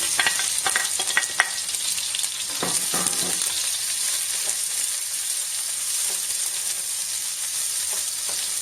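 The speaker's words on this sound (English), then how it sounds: "To that, I'm going to add the onions." Half a large onion sautéing in a hot pan for chilli mogo: a steady, bright sizzle throughout, with a few soft stirring clinks and scrapes early on, close and without talk.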